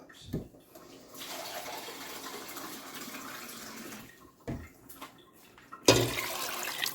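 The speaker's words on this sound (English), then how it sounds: "I'm gonna get me another 2 cups of water." Tap water runs into a pot in a home kitchen while lima beans are being cooked, a steady rushing stream of about three seconds between brief clunks and knocks, with a louder splash near the end.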